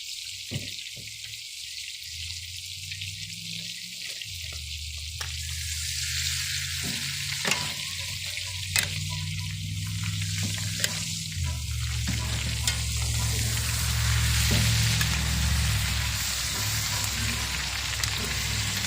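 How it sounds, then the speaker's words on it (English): Tomahawk steak searing over a fire, a loud, continuous crackling sizzle close by that swells steadily louder and denser over nearly twenty seconds, alone without talk. "now that I've got that side seared, I'm gonna go ahead and I'm gonna flip it"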